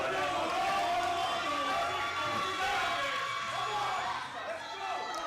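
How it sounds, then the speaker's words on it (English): Scottish fans in the crowd at a Scottish Classics 2025 powerlifting meet cheer and shout loudly and continuously, a dense roar of many voices with whoops rising over it. "Scottish fans in the crowd, that's for sure, you'll hear them."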